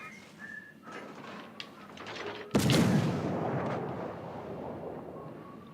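Warship guns fire in the naval video game World of Warships: Legends, with a loud booming blast at mid-clip that rumbles on beneath game chatter and tones.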